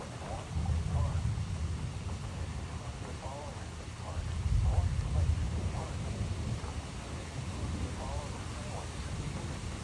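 Gusty wind in Troy, Illinois during a severe thunderstorm, buffeting the microphone in rough low-pitched surges that rise and ease over about ten seconds, faint, with a voice talking now and then.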